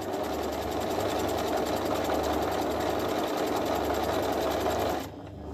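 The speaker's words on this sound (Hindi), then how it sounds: "ट्रिपल सिलाई भी करता हूँ।" Juki HZL65 sewing machine running steadily while sewing a triple stitch, a close, loud, continuous whirring and rapid needle rhythm for about five seconds before it stops abruptly, with no talk.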